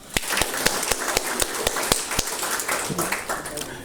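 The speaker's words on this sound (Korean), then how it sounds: "우리 다 같이 뜨거운 박수로 서로를 환영합시다" A gathering at a founding assembly of religious leaders claps, with sharp separate hand claps at first and then a looser, thinning patter, while a voice and some murmuring sound underneath.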